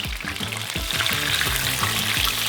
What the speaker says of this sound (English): I wrapped a Mars bar in the pastry as well. That's been frying.